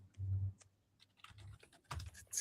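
Faint computer keyboard typing from someone searching something online, a few soft scattered keystrokes and short clicks heard at a distance in a quiet room.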